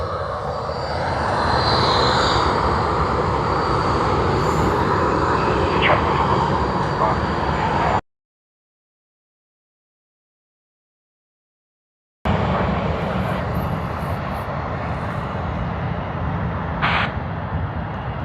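A Cathay Pacific jet departing Sydney Airport for Hong Kong roars loudly and steadily, the sound cut by a few seconds of dead silence before the engine noise resumes, with talk over it.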